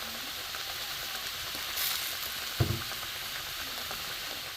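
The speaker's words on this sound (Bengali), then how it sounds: "এবার একটু আমটা সেদ্ধ হতে থাক।" Green mango pieces simmer in a pan for chutney with milk, giving a steady soft sizzling hiss and one brief clunk of a utensil partway through; no talking.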